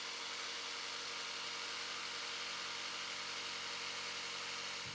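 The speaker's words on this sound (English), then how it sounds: "And for that, I'm going to use my jigsaw. To minimize the cleanup work, make the cut as close to the layout line as possible." A jigsaw cuts waste wood from a router table mortising jig, a steady, even buzzing drone that stays constant and fairly faint throughout.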